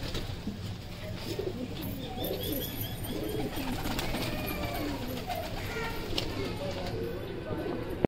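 Soft, repeated pigeon coos murmur through a busy outdoor scene, with voices talking nearby and general crowd noise throughout.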